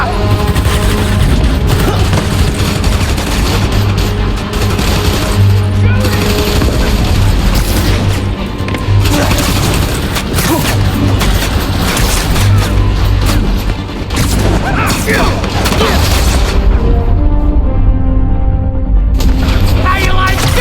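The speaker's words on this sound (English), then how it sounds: "Police and escapees are shooting it out." Gunfire and booming blasts from a police and escapee shootout in the video game Spider-Man Miles Morales, a dense, continuous battle mix with music and voices talking over it.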